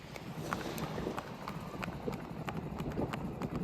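A mare being ridden, her hooves clip-clopping in a steady, quick rhythm of sharp hoofbeats over a background wash of outdoor noise, with no talking.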